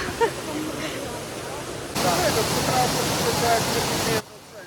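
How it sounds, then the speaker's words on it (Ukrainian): A mountain waterfall in Zakarpattia, Ukraine, at a spot busy with tourists, gives a steady broadband rush that swells louder midway, then drops off abruptly near the end, with faint voices in the background. "Ось наш водоспад"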